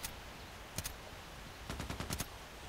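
Automatic gunfire in the online shooter Contract Wars, heard as a short single shot followed by a rapid burst of several rounds, fairly faint over a steady background hiss.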